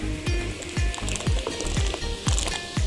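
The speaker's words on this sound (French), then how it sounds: "il faut bien mélanger une fois que vous avez mis le riz" Rice being stirred into a pot for Comorian chicken pilau with coconut milk, with repeated wet squishing strokes at a steady rhythm, close and fairly loud, over a faint sizzle.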